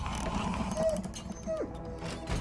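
A door creaks open with a grinding mechanical groan, a sound effect in a horror movie trailer, heard briefly against a dense, steady background of trailer sound.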